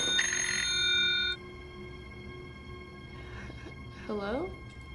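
A telephone rings loudly in a horror short film, one harsh electronic trill lasting just over a second before cutting off, followed by low room noise and a voice talking near the end.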